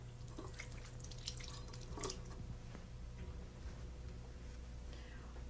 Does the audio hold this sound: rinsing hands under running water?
yes